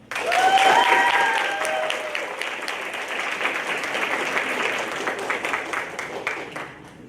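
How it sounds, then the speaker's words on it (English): Audience applause after a speech at a social justice soapbox event, sustained crowd clapping that swells at the start and continues steadily, with a brief voice or whoop early on. "Let's give another warm round of applause, please"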